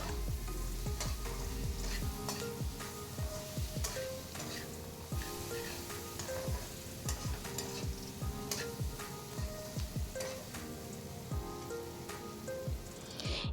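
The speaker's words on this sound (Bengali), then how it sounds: "খুব ভালো করে মিনিট চার থেকে পাঁচ সময় ধরে আমি পেঁয়াজটাকে একটু ফ্রাই করে নেব" Sliced onion frying in oil in a pan for a katla fish curry, a dense steady sizzle with crackling pops and occasional stirring scrapes throughout, close and fairly loud with no talking.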